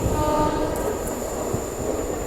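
Rajya Rani train with ICF coaches pulls into Kengeri station, a loud steady rumble of rolling coaches close by, with brief horn-like tones near the start.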